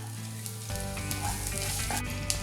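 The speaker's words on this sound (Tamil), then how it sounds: "வெண்ணெய் உருகுனதும் 10 பூண்டு பல், ஒரு சின்ன சைஸு பச்சை மிளகாய் கட் பண்ணி வச்சுருக்கேன்," Ten garlic cloves and a small chopped green chili hit melted butter for a sweetcorn mushroom soup, bursting into a sudden, steady sizzle that continues without talk.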